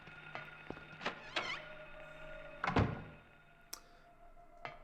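A jammed door in the Silent Hill video game is tried, producing several dull rattling thunks and clunks as the handle is worked, with a low game ambience droning underneath.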